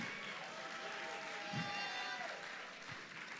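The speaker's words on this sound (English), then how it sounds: "A round of applause for him" An audience at the Miss World Nigeria grand finale in a Lagos hall applauds, a faint continuous patter of clapping with scattered cheers and a voice over the crowd.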